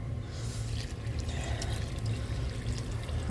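Plain water poured into an orchid mounting mix, a steady close rush of liquid that stays constant throughout with no talking.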